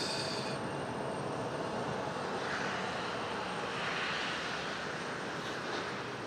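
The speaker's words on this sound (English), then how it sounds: "It's the only airplane making any movements at the moment." An Icelandair airliner taxis at Raleigh-Durham International Airport, its jet engines giving a steady, loud broadband roar with a faint whine that holds constant throughout, heard from a distance with no talking.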